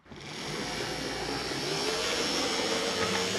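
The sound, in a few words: early 1970s Life-Like model train drive motor running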